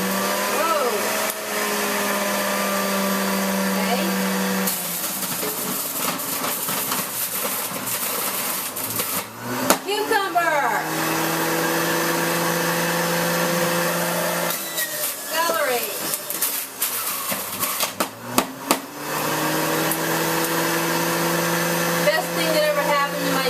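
An 800-watt juicer motor whirs loudly while celery and cucumber are fed through, its pitch rising and dipping as it works, with brief pauses between loads and a person talking over it at times.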